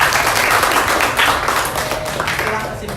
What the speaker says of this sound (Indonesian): Bagus, tepuk tangan untuk Karen.